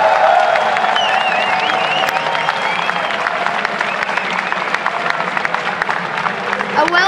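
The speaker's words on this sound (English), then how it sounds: "A well-deserved applause here for you guys." Audience applause and cheering at a live Gamescom 2013 esports event for the League of Legends European LCS Summer Split champions Fnatic, a dense steady wash of clapping with some talk mixed in.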